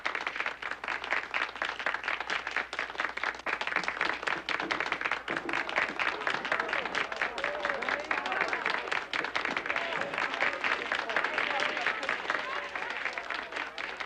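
A townsfolk crowd in an Old West setting claps steadily and densely throughout, a continuous wash of applause with murmured crowd voices mixed in.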